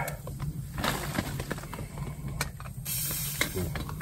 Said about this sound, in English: Steaming up real nice and ready to go.